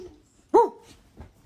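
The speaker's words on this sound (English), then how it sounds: "bark at your dog" Pet dog giving a single short bark or yelp near the microphone, followed by a faint second sound, in a quiet room.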